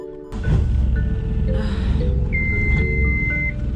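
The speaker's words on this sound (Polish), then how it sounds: "Alarm kotwiczny." An anchor alarm on a sailing boat gives short electronic beeps and then one longer sustained tone, sounding over a steady low rumble of wind and water.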